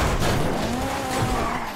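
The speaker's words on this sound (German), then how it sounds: "Naja, ein paar Überschläge, das hält das Auto locker aus." A car in GTA Online tumbles through several rollovers, giving a loud continuous scraping, skidding roar with tire squeal that stays dense from start to finish, no speech over it.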